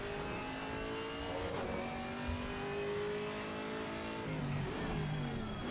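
A Camaro GT4 race car engine revs hard on the Laguna Seca circuit during a night race in a racing game, a continuous close, loud drone that climbs in pitch, breaks at a gear change and climbs again.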